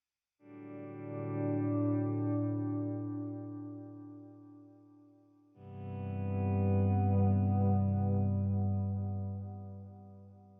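Electric guitar run through a washy pedalboard effect with loud repeats, two long volume-swelled chords blooming in, one after the other, smeared with echo and chorus-like shimmer and a distorted edge, with no one speaking.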